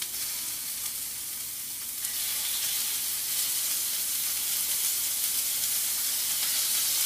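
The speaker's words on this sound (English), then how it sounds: "I think my oil should be about right. I'm just listening to it crackling." Chicken pieces frying in hot oil give a steady, close sizzling hiss with fine crackle that grows slightly louder after a couple of seconds and holds evenly, with no talking.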